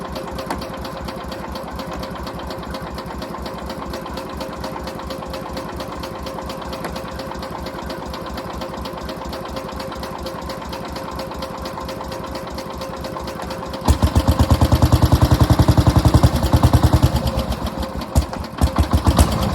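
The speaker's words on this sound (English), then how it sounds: "See if it'll start up and run long enough to get it in the garage." An SS15 tractor engine runs with a fast, steady mechanical chatter throughout, then grows louder and rougher toward the end as it floods and sputters.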